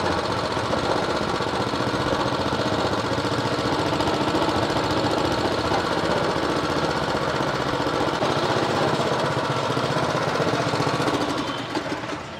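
A mini tractor engine runs steadily at close range, a loud continuous chugging drone with a rough knocking texture that holds level and fades slightly at the very end, with no talking.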